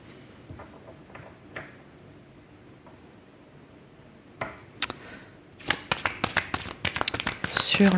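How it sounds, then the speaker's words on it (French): Tarot cards are shuffled and drawn, starting with a few faint isolated card taps, then building into a rapid crisp riffle of snapping cards that grows louder toward the end. "On va tirer quelques cartes supplémentaires"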